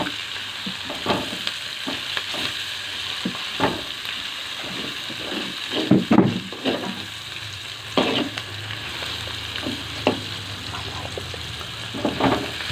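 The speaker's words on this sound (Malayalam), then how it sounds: "അപ്പോൾ നമ്മൾ സവാള വാടി തുടങ്ങണ്ടേ." Onions sautéing in a pan, a steady sizzle under repeated scraping and stirring strokes that come every second or so, close and moderately loud, with no talking.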